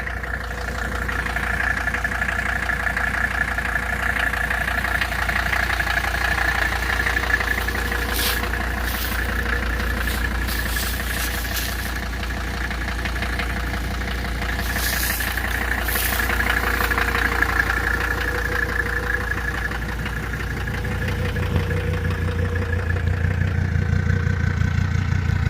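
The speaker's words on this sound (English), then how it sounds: "even at idle, the intake note of this thing is just like you can really hear it" A Mercedes-Benz 300TD with a turbocharged OM617 diesel idles steadily and loudly up close, its rough, knocking clatter and throaty intake note running continuously without a break.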